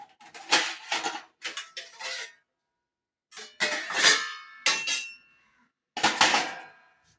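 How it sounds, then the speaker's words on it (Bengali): Fresh ginger rubbed against a metal grater in a home kitchen, heard as clustered bursts of scraping strokes with clinking metal, separated by short pauses, close and fairly loud. "এই আদাটা আমি গ্রেট করছি"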